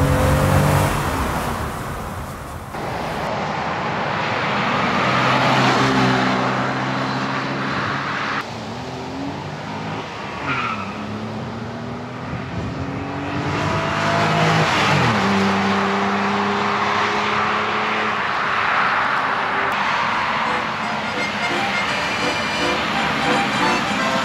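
A 1974 BMW 2002 on a test drive, its engine droning and rising and falling through gear changes as it accelerates, heard from inside the car at steady volume with someone talking over it at times.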